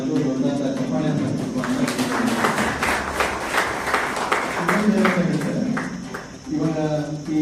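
An audience at a lawyers' association health camp in Hukkeri claps along steadily, with a voice speaking over the applause throughout.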